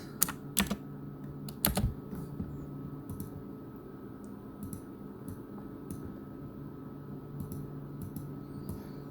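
Computer keyboard typing during 3D rendering software work, scattered key clicks in short bursts with a few louder taps, close and fairly quiet over a steady low room hum.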